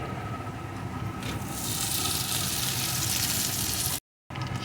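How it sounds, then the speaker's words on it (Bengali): Fried potatoes tipped into a pan of softened, frying chopped onions, giving a loud steady sizzle that swells after a second and keeps hissing close by, then cuts out briefly near the end. "এখন ভেজে রাখা আলুটা এর ভিতরে দিয়ে দেবো।"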